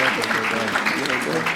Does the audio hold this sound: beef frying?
no